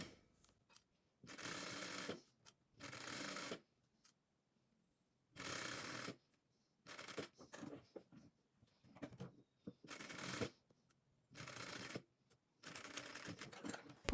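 A home sewing machine stitches the collar of a handmade shirt, running in several separate bursts of steady whirring with short pauses between them, close and clear with no talk.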